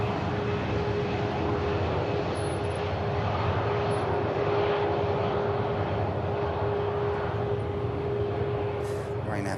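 A Ryanair Boeing 737 MAX jet taxis at Manchester Airport, a steady engine rumble and whine heard from close range with a sustained tone, with speech faintly in the background.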